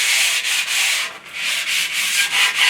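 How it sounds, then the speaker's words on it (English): Emery cloth rubs back and forth along a metal T-slot on a bandsaw table, a steady close abrasive rasp in repeated strokes with brief dips between passes. "I've got a little bit of wet and dry, or a little bit of emery cloth, and just rub that along"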